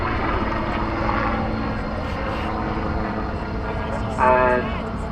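A display helicopter pulls up and hangs in a stall-turn manoeuvre at the Farnborough Airshow 2014, its steady rotor and engine roar filling the air under a commentator's voice.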